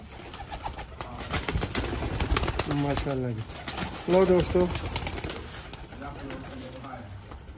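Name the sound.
champion pigeons cooing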